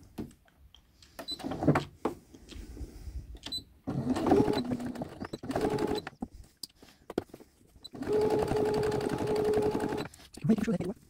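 Sewing machine topstitching a shirt cuff, running in several steady motor bursts of a few seconds each with stops between, close up, with a person talking in between.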